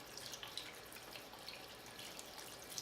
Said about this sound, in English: I'm just going to rinse that gently until I can tell that all the soap's out of it.